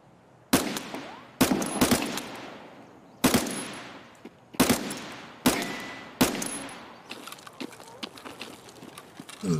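Gunfire in the video game Escape From Tarkov: six loud, sharp shots spaced about a second apart, each ringing out with a long decaying tail, followed by a softer patter of smaller distant sounds.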